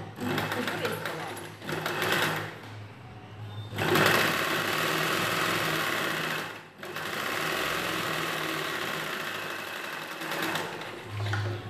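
A sewing machine stitching a blouse runs in a steady, close whirring drone through several long bursts with brief pauses between them, while a person talks over it.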